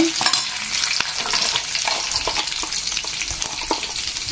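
Chana dal and peanuts fry in hot oil for lemon rice, giving a steady close crackle and sizzle with light stirring scrapes and small pops throughout.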